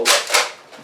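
A Nerf gun fires two quick, sharp plastic snaps of foam darts close by, with a fainter third click trailing after.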